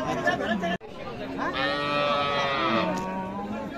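A Friesian cow with her bull calf at a cattle market in Raniganj gives a long, loud moo that rises and falls, heard over steady crowd chatter and voices nearby.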